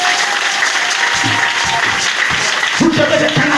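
A church congregation applauds and cheers during an evening service, with dense, steady clapping filling the room and a few scattered voices calling out over it.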